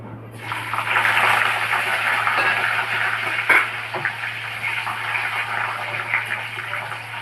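Chopped tomatoes hit hot oil already holding bay leaf, dried red chillies, whole garam masala and cumin. A sudden loud sizzle starts up and holds as a steady, bubbling hiss over a low hum.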